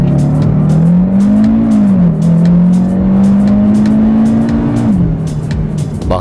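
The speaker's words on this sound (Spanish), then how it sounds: "el capó ruge el icónico propulsor TSI de 5 cilindros con inyección directa y turbocompresor" A Cupra Formentor VZ5's turbocharged five-cylinder TSI engine roars loud and close, holding a steady growling drone that rises slightly, dips, then climbs again before easing off.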